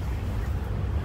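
Steady wind gusting across the open grounds of Yongji Park in Changwon, behind the City Hall, a continuous low rumbling roar with buffeting against the microphone, fairly loud throughout and with no voices.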